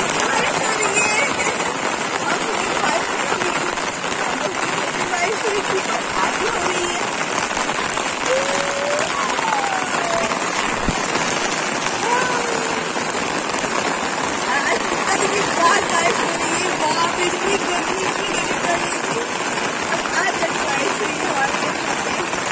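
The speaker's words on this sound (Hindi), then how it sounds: "कितनी तेज बारिश हो रही है।" Heavy rain pours steadily throughout as a dense, continuous hiss, loud and close, with no pauses. Faint voices may sit underneath the downpour.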